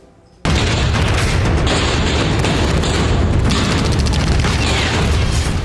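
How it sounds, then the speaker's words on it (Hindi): Loud, dense bursts of gunfire and booming explosions from conflict footage in Myanmar erupt suddenly after a short quiet moment and continue without pause, harsh and close. "गोलियों का शोर"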